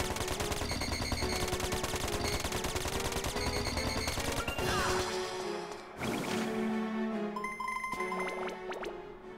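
Rapid automatic gunfire from the video game Dark Chronicle, a loud, dense stream of shots that fills the clip, with metallic clinks and pings among the bursts and no talking.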